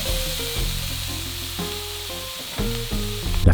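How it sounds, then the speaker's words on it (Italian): Chopped onion sizzles in olive oil in a frying pan as pasta sauce starts, a steady hissing fry under a loud tonal musical backing with shifting chords, growing slightly busier toward the end. "La facciamo sfrigolare per bene."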